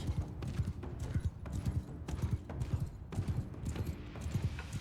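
A horse gallops in the samurai game Shokuho, its hooves pounding out a steady, rhythmic clip-clop that stays close and continuous throughout.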